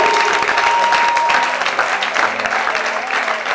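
A church congregation claps and cheers for Jesus Christ, loud, continuous and crowded, with a brief steady sung or held tone near the start under the clapping.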